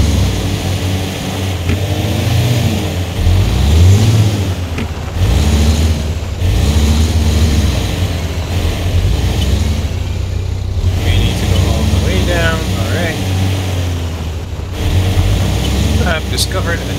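Heavy off-road truck engine in Expeditions: A MudRunner Game, a loud mid-pitched drone that rises and falls with revs through the whole stretch, with occasional clunks and scrapes layered over it.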